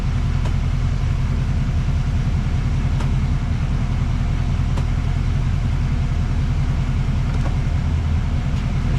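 Chevrolet L5P diesel truck engine idling in gear with an Allison 6-speed transmission, a steady dense low rumble that holds constant throughout, close and fairly loud, with no talking.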